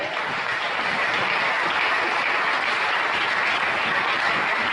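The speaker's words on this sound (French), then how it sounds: "Est-ce qu'on peut acclamer le Seigneur?" A church congregation breaks into loud, sustained applause for the Lord, a dense unbroken roar of many hands clapping close by, with no voices over it.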